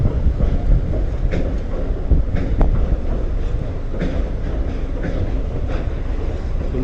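A passenger train rolls slowly along the rails, a loud continuous rumble with faint rhythmic clicks and clatter, heard from on board.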